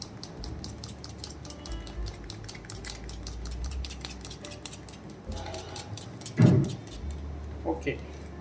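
Pineapple pastry batter mixed with yellow food colour and pineapple crush, with a whisk or spoon scraping and clicking rhythmically against a bowl close by, ending with a few louder knocks.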